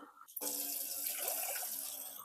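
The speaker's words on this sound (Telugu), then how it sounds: "బియ్యము ఇందులో పోసి కడుగుదాము బియ్యము వాష్ చేద్దామండి" Rice grains are washed in water, with a steady close stream of running, splashing water starting after a brief pause and continuing without a break.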